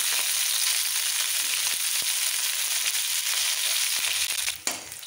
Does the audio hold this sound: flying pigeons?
no